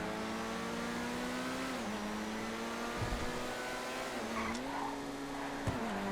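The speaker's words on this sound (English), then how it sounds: "I love the way the Italy GTB drives." Italy GTB supercar in GTA FiveM, a steady engine drone with shifting pitch as it accelerates and lifts, faint and continuous.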